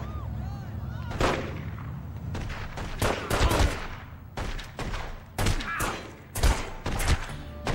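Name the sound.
gunfire in The Godfather video game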